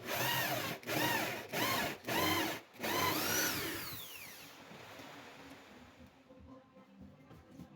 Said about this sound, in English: I drill a hole 35 mm in the center of the materials